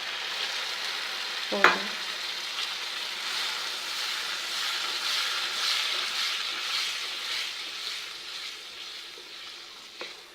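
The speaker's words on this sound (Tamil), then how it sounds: "புளிலாம் கரைச்சி வச்சுருக்கிறேன், கொஞ்சமாக ஊற்றிடலாம்" Tamarind water poured into a sizzling pan of Tamil kathirikai kulambu (eggplant curry) with curry leaves gives a steady, hissing fry with a sharp clink near the start and another near the end. A voice briefly speaks.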